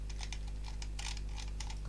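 Typing on a computer keyboard, a quick irregular run of close, soft key clicks over a low steady hum, with no talk.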